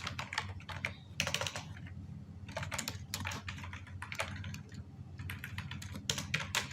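Typing on a computer keyboard while writing HTML code, quick bursts of clicking keystrokes separated by short pauses, close and clear over a low background hum.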